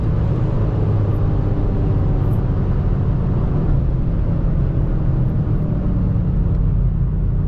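A 2025 BMW M5 G90 engine pulls hard through its upshifts, a loud, steady, close low-pitched roar and drone that fills the whole stretch with no voices.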